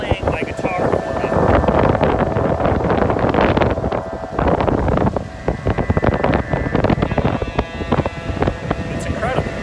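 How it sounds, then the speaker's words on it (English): Strong wind buffets the microphone while sustained droning tones ring out, tanpura-like, as the wind blows across guitar strings making them hum in the gusts; a voice is faintly present. "the wind isn't playing my guitar for me"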